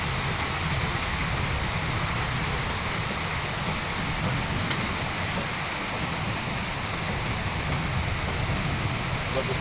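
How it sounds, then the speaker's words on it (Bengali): Heavy rain from a thunderstorm with gusty wind in Sylhet, heard through a window, forms a steady, dense roar that holds at one even level from start to finish. "দেখুন কী পরিমাণে বৃষ্টি হচ্ছে, মারাত্মকভাবে বৃষ্টি হচ্ছে।"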